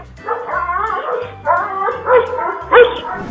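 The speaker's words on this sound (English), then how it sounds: "a group of brave dogs springs into action and successfully drives away wolves that wandered too close" Several dogs bark, yip and howl in overlapping bursts near a town while driving off wolves, the calls rising and growing louder toward the end, with no talking.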